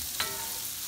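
Morel mushrooms browning in a pan give off a steady, close sizzle and hiss, with one small sharp crackle early on and no voices.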